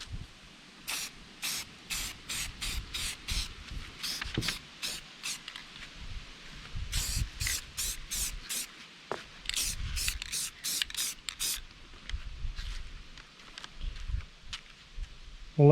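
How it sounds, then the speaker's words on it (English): Gray primer spray paint hissing onto an artificial rock in repeated short bursts, close and fairly loud, with faint rattles and handling noise between sprays. "Now I'm going to start out the painting process with a gray primer just to give it a"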